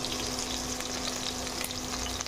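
Chopped onion frying with salt in a pan, a dense continuous close sizzle and crackle with faint stirring, no voices.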